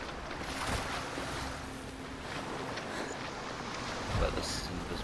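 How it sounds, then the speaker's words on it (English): Water washes around a character wading in from the shore in Hellblade: Senua's Sacrifice, a soft continuous surf-like swash with gentle splashes and a brief low slosh near the end. "Gonna get into the water, take a nice little dip."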